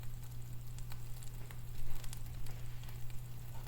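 Grilled cheese frying in a pan gives a steady low sizzle with a soft crackle and patter, close and fairly quiet, with no voices over it.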